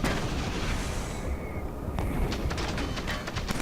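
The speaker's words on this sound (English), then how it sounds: "I think it's that thing that starts dropping the mortar rockets at you" Mortar rockets dropped by a giant mechanical beast in the Killzone 3 video game, heard as a dense roar of distant artillery booms and sharp blasts, with crackling impacts repeating in the second half.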